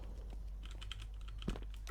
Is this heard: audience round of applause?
no